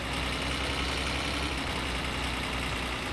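A car engine in the video game My Summer Car idles in a steady, low, continuous rumble with no voices.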